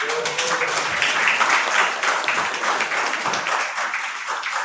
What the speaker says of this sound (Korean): 한 분 한 분 소개해 올릴 때마다 큰 박수 부탁드립니다